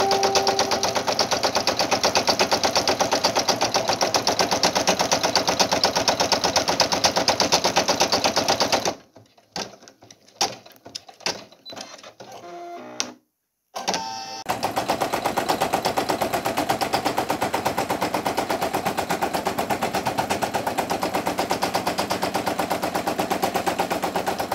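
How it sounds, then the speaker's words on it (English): A Brother single-needle sewing machine runs a rapid satin stitch around a minky fabric applique, a fast steady mechanical chatter that stops for a few seconds of near silence with brief bursts, then resumes continuously. "Now we're doing the outsider edge stitch, like the satin, the start of the satin stitch."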